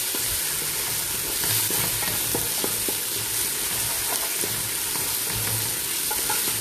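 Onions frying in a pan, a dense steady sizzle with occasional soft scrapes from stirring, loud and close throughout with no voices.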